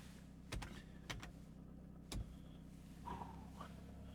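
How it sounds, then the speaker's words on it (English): Someone gets into a car: a few sharp thuds and clicks of a door and seat, then a soft whir like an electric window, all fairly quiet in a still interior with no voices. "Let's get in the car."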